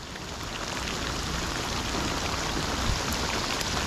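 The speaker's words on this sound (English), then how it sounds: "you think I'm gonna stop throwing the line just because it's raining?" Rain falling on a kayak during fishing after Hurricane Helene, a dense, steady hiss of drops close by with no other sounds.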